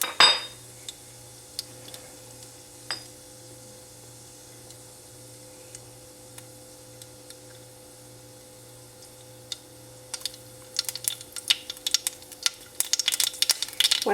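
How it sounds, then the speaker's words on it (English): Mustard seeds spluttering in hot oil, with a low steady hum at first, then sharp irregular pops and crackles that grow busier and louder toward the end, alone without talk. "once the oil is hot, I'm just going to add in the mustard seeds, and it should start spluttering"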